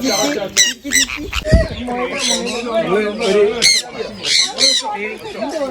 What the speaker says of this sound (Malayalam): എന്റെ കയ്യിൽ നിറച്ച് സീഡ് ഉള്ളതുകൊണ്ട് തന്നെ കുറേ കിളികൾ വന്നിരിക്കുന്നതുകൊണ്ട്